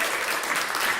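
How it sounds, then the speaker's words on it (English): Church congregation clapping for the children, a brief burst of dense, lively applause from many people filling the room. "A round of applause for our kids."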